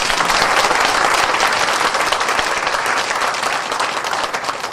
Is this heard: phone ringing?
no